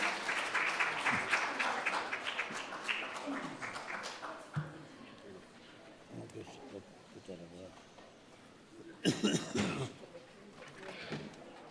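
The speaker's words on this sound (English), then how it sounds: "Let's give them a large round of applause." Audience at a school citizenship challenge event clapping in a fairly loud burst at the start, fading into scattered claps and room noise, then a brief louder round of clapping near the end.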